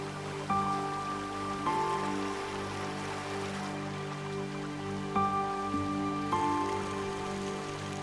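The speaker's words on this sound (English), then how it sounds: "The rains which fall give the islands a plentiful supply of fresh water" Rain falling on a tropical Caribbean island, a steady hiss of drops that carries on throughout, with faint tonal hums running beneath it.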